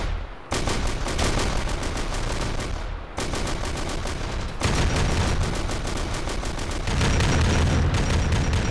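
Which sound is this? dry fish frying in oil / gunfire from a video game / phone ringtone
gunfire from a video game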